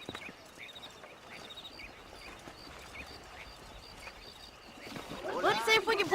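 Horse hooves clip-clop in Red Dead Redemption while horses are being broken in at a ranch, a faint, steady patter of hoofbeats under quiet ambience, with swelling music rising near the end.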